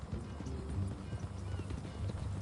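Horse hooves clip-clop in a quick, steady rhythm in the Red Dead Redemption 2 video game, moderately close over a constant low background rumble.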